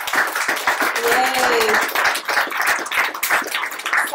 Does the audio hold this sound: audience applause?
yes